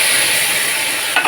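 Spices crackling and sizzling in hot oil as a tempering of kalonji, bay leaf and arum is made for curry, a steady loud hiss with a brief louder burst of spattering near the end.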